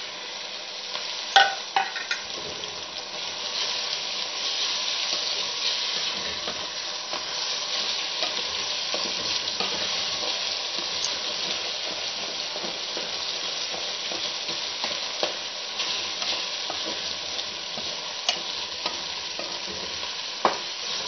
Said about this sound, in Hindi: अब हम डालेंगे जो हमने 2 टमाटर काटे हुए थे